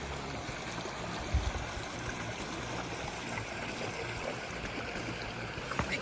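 A mountain stream in San Bernardino National Forest rushes and trickles steadily over rocks, a continuous broadband wash with no voices, close by and fairly loud.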